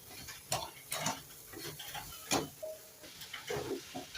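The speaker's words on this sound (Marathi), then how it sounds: "मिश्रण हे एकसारखं हलवत राहायचं आहे नाहीतर मग खालती साखर लागू शकते" A spoon stirs a coconut and sugar barfi mixture in an iron kadhai, giving irregular scraping strokes and soft knocks against the pan, fairly quiet and close, with a faint sizzle between.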